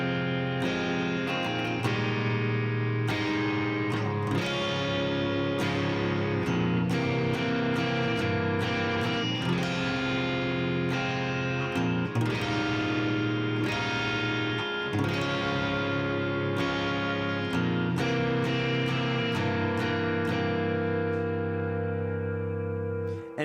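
Distorted electric guitar plays deep, guttural chord inversions over the same sustained bass note, dense and continuous with strummed attacks throughout.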